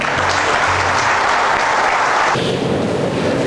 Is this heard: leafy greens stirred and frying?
no